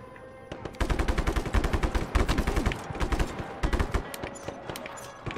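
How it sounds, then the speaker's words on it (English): Dense, sustained automatic gunfire from the open-world action game Just Cause 3, rapid overlapping bursts of shots that stay loud and close for several seconds before thinning out. "Who's shooting at me?"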